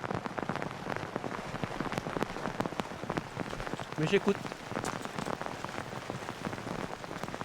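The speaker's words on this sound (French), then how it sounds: "Avec la pluie intense" Intense rain pours down near a cliff on La Fournaise volcano, a dense, constant patter of drops striking rock and ground close by, with a person briefly speaking midway under the downpour.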